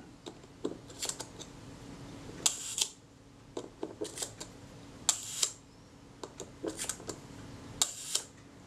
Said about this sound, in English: This tool is one that I've made for cocking shutters like this.